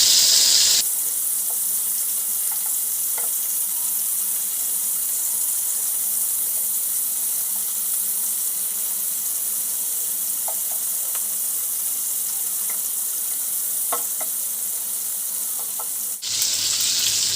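Prawns fry in a pan in oil for a coconut-milk malai curry, giving a loud, steady sizzle that holds unbroken for about fifteen seconds with a few faint ticks and pops.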